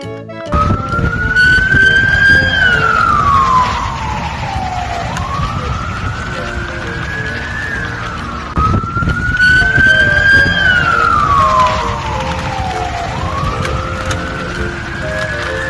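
A red toy ambulance siren wails loudly and close by, sweeping up and down in steady repeating cycles.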